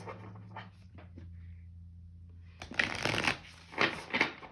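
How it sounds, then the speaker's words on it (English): Cards are shuffled in quick riffling bursts, close and fairly loud, following a stretch of quiet low background hum. "All right, shuffle now"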